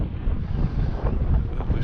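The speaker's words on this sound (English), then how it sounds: "It's always very windy here." Wind blows on the coast at Aberffraw, buffeting the microphone with a steady, loud, low roaring rumble that surges slightly without pause and no voices.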